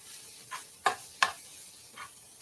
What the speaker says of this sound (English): Stir it, keep stirring.